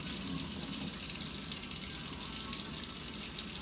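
Steady rushing water rinsing out a glass waterpipe, a continuous close gush like a running tap with no pauses.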